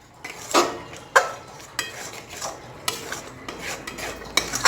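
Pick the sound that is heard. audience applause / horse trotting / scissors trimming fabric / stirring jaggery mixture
stirring jaggery mixture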